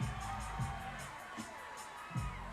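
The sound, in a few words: crowd cheering at a baseball game dance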